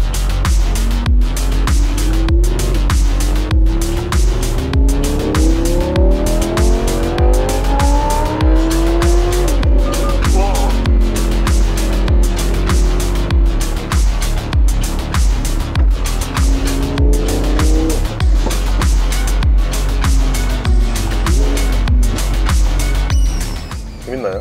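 Audi R8 Spyder open-top sports car in dynamic mode, its engine revving up and down loudly with rising and falling pitch sweeps and crackling exhaust pops, continuous and close throughout.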